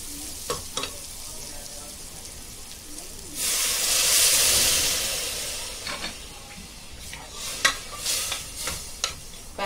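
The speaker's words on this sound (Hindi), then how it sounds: "ये प्याज के अंदर दाने को भुनेंगे।" Grains roasting with onions in oil in a pan for Konkani-style tuvar dal, giving a steady frying sizzle with a louder hissing burst midway and light stirring scrapes, close and continuous with no talk.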